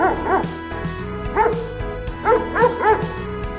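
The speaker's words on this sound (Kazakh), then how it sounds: "Ит." A cartoon dog gives several short, high yipping barks in quick bursts, some paired, heard close over a faint, low backing tone.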